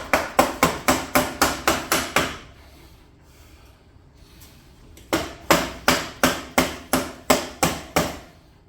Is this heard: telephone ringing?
no